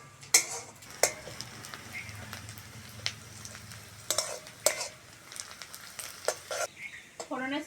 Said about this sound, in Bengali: ফোড়নের সঙ্গে পেঁয়াজ কাঁচা লঙ্কাটা ভালো করে ভেজে নিয়েছি